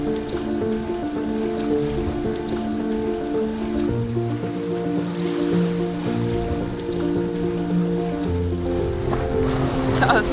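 A sailboat crossing the Indian Ocean at night, with continuous wash of water along the hull and steady rushing sea noise, layered with sustained tonal hum, moderately loud throughout.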